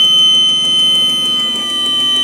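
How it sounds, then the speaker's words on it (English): A mining vehicle's brake system tow mode alarm sounds as a loud, steady high-pitched electronic beeping tone, repeating in quick even pulses close by with a low engine hum underneath. "press and release the tow mode button. And you'll see the flashing and hear it as well."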